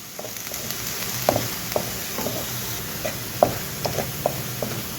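Taro root and okra pieces fry and are stirred in a pan for a tamarind stew, with a steady soft sizzle broken by irregular light clacks of the spoon against the pan.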